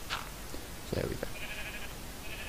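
Minecraft sheep bleat in a pen, one short bleat followed by a slightly longer one, close and clear over a faint hiss.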